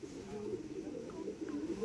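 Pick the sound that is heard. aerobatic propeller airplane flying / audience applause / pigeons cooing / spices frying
pigeons cooing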